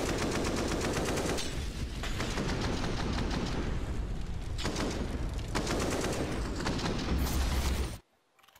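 Rapid gunfire in Counter-Strike on de_inferno during a G2 Esports vs MIBR pro match, dense overlapping automatic bursts with sharp single shots that pile up loudly for about eight seconds before cutting to near silence.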